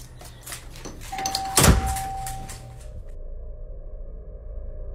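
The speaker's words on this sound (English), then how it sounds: "how was the doorbell going off on its own?" A front doorbell rings once, a sharp tone that sustains as a steady electronic note for about two seconds amid background noise, followed by quieter ambience.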